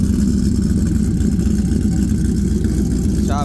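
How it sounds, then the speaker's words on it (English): Whipple-supercharged Ford Lightning pickup idling warm after a throttle adjustment, a loud, close, steady low rumble with a slightly choppy pulse and a brief higher whine near the end. "See how she's idling now."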